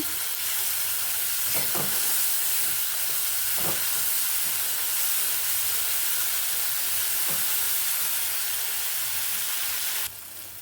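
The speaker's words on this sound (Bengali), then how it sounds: "মশলাটা এবার কষিয়ে নেব" Spice paste (masala) frying in oil with asafoetida, a loud continuous sizzle and hiss with a few soft scraping knocks of stirring, cutting off abruptly near the end.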